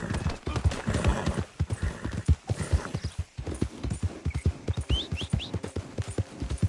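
Horse hooves clip-clop at a steady walking rhythm in Red Dead Redemption 2, close and distinct, with a horse's neigh rising partway through and someone speaking briefly over the hoofbeats.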